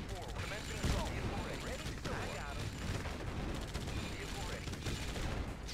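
Sustained rapid gunfire from units attacking a sentry gun in the real-time strategy game Red Alert 2, a dense crackle of shots and booms filling the whole stretch, with game voices faintly mixed in.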